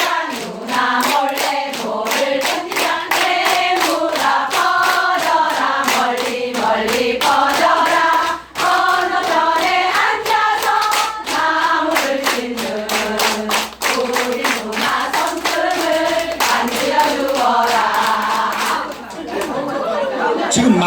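A group of seniors and homemakers claps along to the children's song Pongdang Pongdang in a music therapy class, a rapid, steady run of sharp claps under singing voices and chatter, with a short pause midway.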